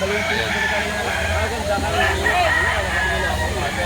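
A rooster crows at a Saturday chicken market in Lipa City, Batangas, its strained calls rising over a steady hubbub of people talking and other fowl nearby.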